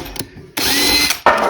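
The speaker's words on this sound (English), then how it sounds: "So I just drill holes all the way down, and they're a nice size hole," A power drill bores drainage holes into a strawberry planter, whining in short bursts: a brief start, then a longer steady run and another burst, close and loud.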